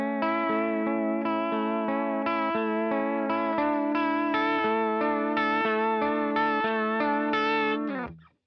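Electric guitar played through an Audition effect pedal gives a thick, sustained, effected tone with shifting notes and chorus-like shimmer, heard alone for about eight seconds before cutting off.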